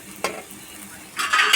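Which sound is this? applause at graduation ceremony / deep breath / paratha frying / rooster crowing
paratha frying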